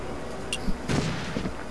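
Gunfire in the online shooter Uber Strike on the Sky Garden map: a sharp high crack followed by a burst of two or three louder shots with a short noisy tail, moderately close.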